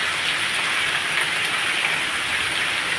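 Heavy monsoon rain in the Gir area pours steadily in a dense, even hiss, loud and constant throughout, with no voices.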